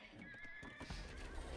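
Horses in a medieval strategy video game neigh and whinny, a bright drawn-out call over clip-clopping hooves and busy game noise, fairly loud throughout.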